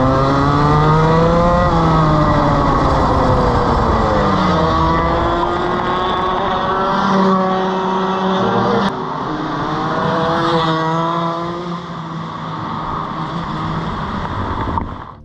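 A loud, buzzing Senior Rotax Max racing kart engine revs up and down repeatedly, pitch rising and falling as it races past, close and continuous throughout.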